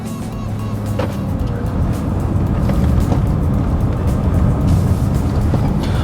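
An Aston Martin V8 Vantage 4.7L with a single-clutch Sportshift II gearbox pulls away in drive, its engine a steady low rumble that swells gradually, heard from inside the car with no talking.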